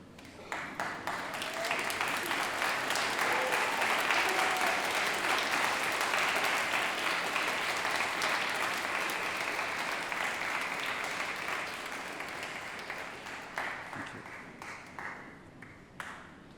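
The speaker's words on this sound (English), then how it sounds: "give your friends and family a round of applause for the support that they have given you" Graduates and guests applaud at a July 2022 university graduation ceremony in a large hall, a long, dense wave of clapping that builds quickly, holds loud, then thins out with scattered claps near the end.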